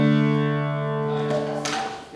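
Two low voices moving in parallel fifths, sustained tones that shift to a new pair of pitches partway through, then a brief noisy blip at the end.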